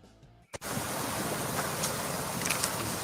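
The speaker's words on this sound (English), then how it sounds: "Cazenovia Creek is one of the creeks flowing from the suburbs of Buffalo into Lake Erie" Cazenovia Creek flows toward Lake Erie from the Buffalo suburbs, a steady broadband rush of moving water that starts suddenly after a brief quiet moment and a click, then holds constant.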